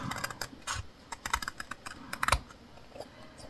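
Craft paper is cut while making a scrapbooking mini album, giving a run of close, crisp snips and rustles of uneven rhythm with no talk.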